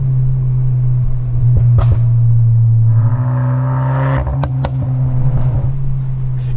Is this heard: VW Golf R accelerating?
yes